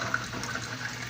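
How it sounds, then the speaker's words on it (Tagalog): Water pours into a cooking pot of vegetables in a home kitchen, a brief, steady close splashing stream with no voices over it. "Dagdagan natin tubig."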